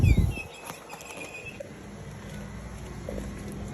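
A pet bird chirps inside a car, giving a few thin high calls and whistles at close range over a steady low road and engine rumble, with a handling bump at the start.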